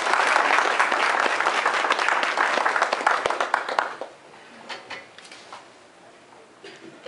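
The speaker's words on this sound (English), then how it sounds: "Please join me in welcoming Ms. Pamela Goebel." Audience applause greets a speaker at a presentation, a dense burst of steady clapping for about four seconds that then thins to a few scattered claps and quiet room noise.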